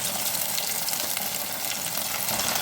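Maqrout, a traditional Algerian semolina pastry, frying in hot oil in a pan: a steady, dense sizzle with fine crackling held at an even level throughout, with no voices.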